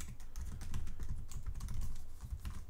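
Computer keyboard typing code on a Mac, a quick, close, steady patter of keystrokes running throughout without any speech.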